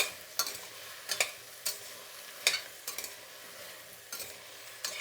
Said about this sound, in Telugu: ఇప్పుడు కరివేపాకు, అలాగే ఇంగువ అనేది ఈ స్టేజ్లోనే వేసుకొని వేయించుకోండి కొంతసేపు.